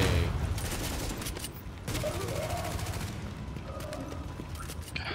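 Marksman rifle fire in The Division, dense and loud, with repeated sharp cracks over continuous combat noise and mechanical clatter.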